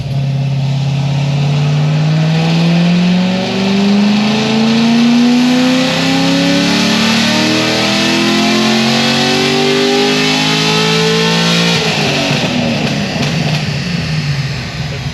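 A stage 4 Corvette C6 Z06 engine revs hard through a dyno pull, its loud rising roar climbing steadily for about twelve seconds before dropping off sharply, close and continuous with no voices.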